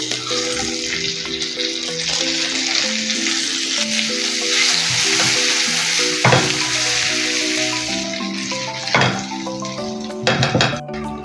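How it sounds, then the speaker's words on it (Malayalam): Curry leaves sauté in hot oil left over from frying anchovies, a loud continuous sizzle with a spatula scraping and tapping against the pan now and then, no speech. "ആദ്യം കുറച്ച് കറിവേപ്പില ഇട്ട് കൊടുക്കാം."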